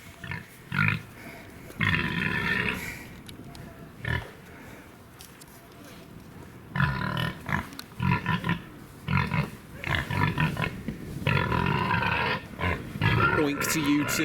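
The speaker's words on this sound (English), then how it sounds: "we've got some very noisy pigs here" Noisy pigs at an open-air museum farm grunt and squeal in bursts, loud and close, with someone talking over and between them.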